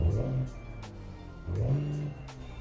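A truck engine in American Truck Simulator fires up, giving two rising, throaty revs with a steady idle rumble between them.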